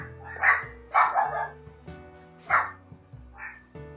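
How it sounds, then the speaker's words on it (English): Dogs bark in the Catherine video game, several loud, sharp barks spaced irregularly over a few seconds above a low, droning game soundtrack. "There are dogs."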